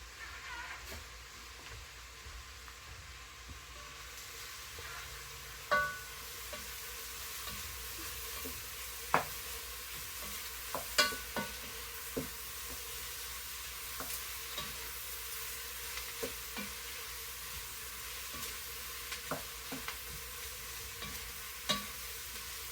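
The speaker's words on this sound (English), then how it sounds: "I do love me a good veggie stir fry, so I'm letting that cook down for a few more minutes." Ham and cabbage stir fry sizzles quietly and steadily in a pan. Occasional soft clinks and stirring taps sit over the constant frying hiss.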